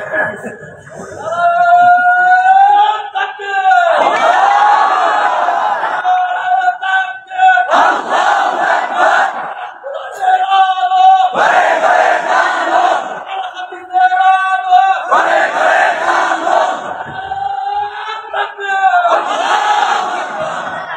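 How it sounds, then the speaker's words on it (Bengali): A crowd at a religious gathering chants takbir in loud, repeated call-and-response bursts, a lone leading voice alternating with the massed roar of many voices, several cycles in a row. "এই যে আল্লাহর নামে তাকবীর দিয়েছেন"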